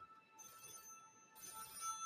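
An old-fashioned telephone bell rings in two bursts, with a short gap between them, set against a quiet room. The sound is moderately faint and no one speaks.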